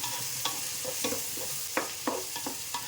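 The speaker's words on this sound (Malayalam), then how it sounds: "തക്കാളിയും കൂടിയിട്ട് വഴന്ന് വരുന്നുണ്ട്" Chopped tomatoes sauté with onion, ginger and chilli in a pan for beef biryani, a steady soft sizzle broken by repeated scraping stirs of a spoon, close and without voices.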